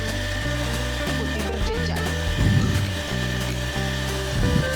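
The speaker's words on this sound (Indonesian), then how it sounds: "Jadi kita harus bersabar untuk memixer." Electric hand mixer beating brownie batter, a steady mid-level motor whir with a rough churning texture that surges in a few bursts as the beaters move through the bowl.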